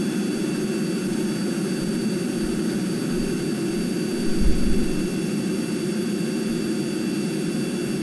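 A steady, loud jet engine roar from a fighter aircraft taking off in Kerbal Space Program, with a brief low rumble swelling midway through the continuous whine.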